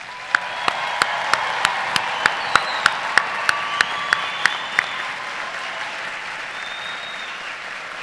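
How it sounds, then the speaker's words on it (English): A large audience at a university fall commencement ceremony applauding the graduates, broad steady clapping from a crowd in a big hall, with a series of louder evenly spaced claps standing out for the first few seconds before it settles. "let's give our graduates one final round of applause"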